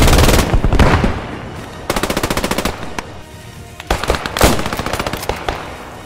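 Loud close bursts of automatic gunfire in the WWII shooter game Squad 44, with heavy single shots and rapid rattling volleys repeating over several seconds, alone without talk.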